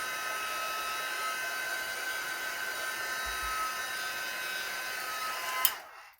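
A heat gun blows ink across textured artwork with a steady, close, whirring rush of air that cuts off with a click at the end.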